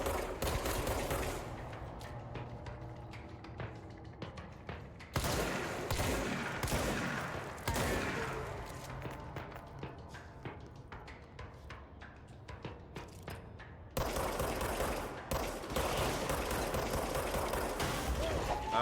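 Weapon fire in the video game Control, in the Research Center area, comes as repeated loud volleys of shots in several separate bursts with mechanical clatter between them, and a voice is briefly heard.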